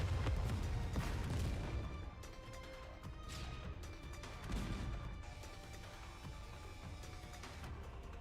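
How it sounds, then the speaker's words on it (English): Rifle gunfire and distant artillery from the video game NIKKE blend into a dense, continuous cacophony of crashes and thuds, loudest at the start, with a heavier burst midway and no talk. "There's a cacophony of noise as Snow White's gunfire melds with the artillery fire from off in the distance."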